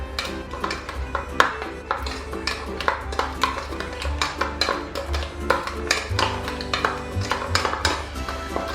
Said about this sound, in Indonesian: Lalu kita aduk aja semuanya.